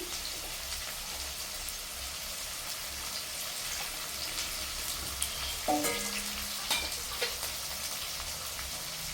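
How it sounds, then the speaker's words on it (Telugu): Onions and green chillies frying in a pan with beans, a constant soft sizzle broken near the end by a few light scrapes and clinks of stirring, with no talking. "తాలింబీన్స్లు ఫ్రై అయిపోయినాయి ఆనియన్స్ వేసుకుంటున్నాను నేను అలాగే పచ్చిమిర్చి"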